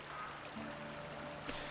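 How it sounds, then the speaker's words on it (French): Steady broadband rush of flowing water from a waterfall in the video game Crimson Desert, a continuous even wash with a faint tonal hum underneath and no one speaking. "Il y a même de l'eau qui passe, je sais pas d'où"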